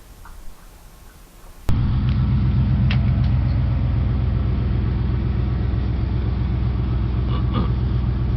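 Pickup truck engine warming up at idle, starting abruptly and settling into a loud, steady close-up rumble with a faint ticking rhythm throughout.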